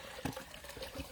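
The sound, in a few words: natural spring water filling containers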